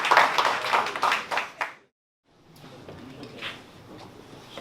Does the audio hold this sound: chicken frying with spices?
no